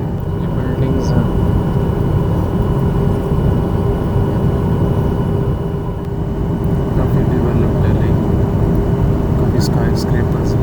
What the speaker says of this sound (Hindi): लैंडिंग अब होने वाली है, बिल्कुल करीब है